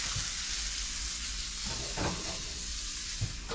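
A thick Muscovy duck breast sears in a hot pan with a loud, continuous sizzle up close, broken by a few brief louder spits and crackles as it is moved.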